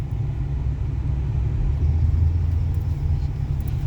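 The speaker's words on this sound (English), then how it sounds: "let's go ahead and take this truck up the road and see how it drives." A 2006 Toyota Tundra SR5 pickup heard from the cab while driving up the road, a steady, loud low engine and road rumble with no talk.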